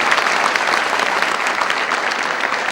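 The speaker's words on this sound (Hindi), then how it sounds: "बिल्कुल मुझे एक बार बता दें कि ताली बजाई कैसे जाती है" Dense, loud applause from an audience at an Urdu poetry recital (mushaira), continuous clapping that stays even and close throughout.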